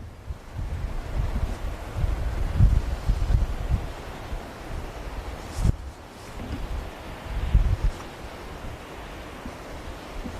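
Wind blowing over dunes on a blustery day, a loud continuous rumble buffeting the microphone with gusts swelling and easing, no voices.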